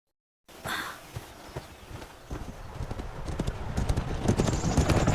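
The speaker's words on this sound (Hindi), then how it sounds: "घोड़े ये किधर जा रहे हैं?" Horses' hooves clip-clop in an irregular walking rhythm, starting after a short silence and growing louder and busier as several horses move close by, with a soft snort among the steps.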